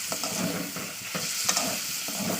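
Prawns sizzle and crackle steadily in a hot pan, with soft scraping stirs now and then; no voices.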